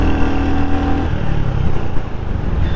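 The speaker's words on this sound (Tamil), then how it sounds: "ஸோ எக்ஸாஸ்ட் நோட் உங்களுக்கு எல்லாம் கேட்க முடிஞ்சதுன்னா ஒரு சூப்பரான எக்ஸாஸ்ட் நோட் வந்து கொடுத்துருக்காங்க" Exhaust note of a 2025 Royal Enfield Hunter 350 motorcycle, a loud, steady low engine rumble with a brief higher tonal whine early on, heard alone without talk.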